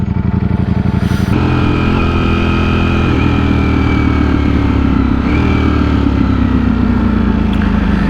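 Ducati Streetfighter motorcycle engine, a loud close throbbing idle that settles into a steady note whose pitch slowly sags, with a faint whine on top and no voices.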